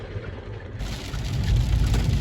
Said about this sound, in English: Kind of raining out.